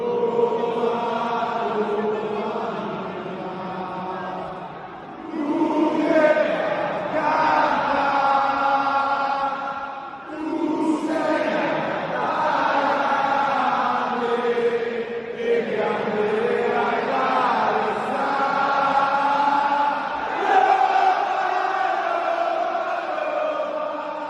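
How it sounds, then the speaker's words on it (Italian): AS Roma football supporters singing a stadium chant in Rome, a large sustained mass of voices carrying a melody in long phrases with brief dips between lines, steady and full throughout. "Quindi ti faccio ascoltare uno dei cori della Roma."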